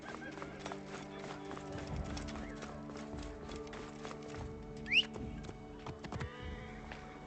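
Horse hooves clip-clop at a steady trotting pace in a video game, moderately faint beneath sustained game music and ambient tones, with a brief sharper sound partway through.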